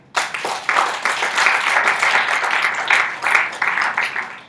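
An audience claps steadily and densely through the whole stretch at a tourism development gathering, a loud sustained wash of many hands starting abruptly, with no speech over it.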